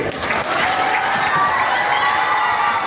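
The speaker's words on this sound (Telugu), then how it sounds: "చప్పట్లు కొట్టండి" A crowd at a district police International Women's Day celebration claps in steady, dense applause that stays loud and close for the whole stretch.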